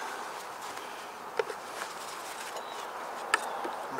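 Honeybees fill an open, busy hive during an inspection with a soft, steady buzz, close by, broken by a few faint clicks and taps.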